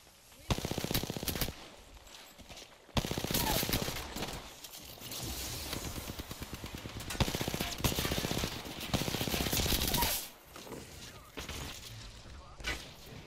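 Loud rapid automatic gunfire from Apex Legends weapons rattles in several long sustained bursts, with brief pauses between them and other shots in the mix, while players talk over it.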